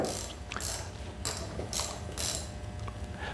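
Allen wrench snugging bolts tight on a CS-1 sifter during a rebuild: quiet metallic ratcheting clicks and creaks come in a few short bursts over a low background, with no speech.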